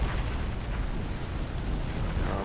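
A grenade explosion in the shooter game Planetside 2, heard as a loud, close, sustained roar of blast noise with deep rumble that fills the whole moment without letup.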